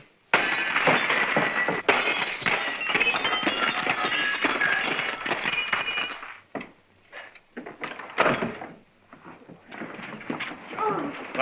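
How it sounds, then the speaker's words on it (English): Glass in a door is smashed in a 1941 comedy thriller scene, a long noisy crash and clatter of breaking, shattering glass that fills the first six seconds, followed by scattered knocks, scuffs and rustling movement. "May I suggest, sir, that you break the glass?"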